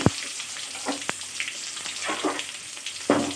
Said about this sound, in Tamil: வெங்காயம் வதக்கினதும்